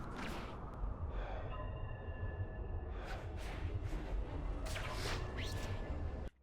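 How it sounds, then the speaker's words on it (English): Spider-Man breathes tiredly in the game Web of Shadows, with heavy sighs and gasps rising over a dense background of game ambience and music before it cuts off abruptly. "sometimes Spider-Man just breathing because he's tired"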